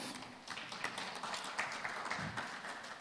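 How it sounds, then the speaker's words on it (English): An audience applauds at a formal rule-of-law report event where a justice minister is welcomed: a steady, soft wash of many hands clapping that stays fairly distant and even throughout. "Let's give him a big hand clap."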